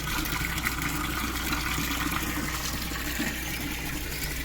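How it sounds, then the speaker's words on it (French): Water rushes and splashes continuously in a steady, full wash of sound in Chartres near the cathedral, even and unbroken throughout. "au bruit de l'eau."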